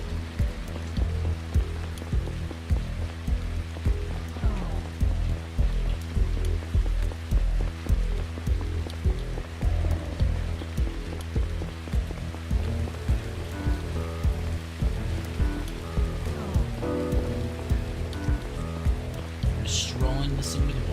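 Rain falling steadily in a sci-fi noir video game, a constant patter of drops on surfaces under a droning musical bed, with the ambience holding evenly throughout.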